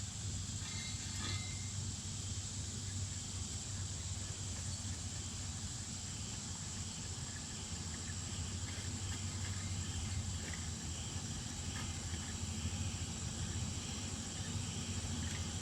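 A lit Coleman 533 dual fuel camp stove burner gives a loud, steady, close roar with an even hiss that holds unbroken throughout, with no talking.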